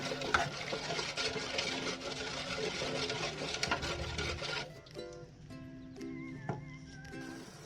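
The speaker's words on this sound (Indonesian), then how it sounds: "Selanjutnya kita aduk kembali supaya air lemonnya tercampur dengan air gula." A spoon stirs lemon juice into sugar syrup in a pot, making steady scraping and swirling strokes. The stirring is busy and dense at first, then becomes sparser, with separate knocks and scrapes.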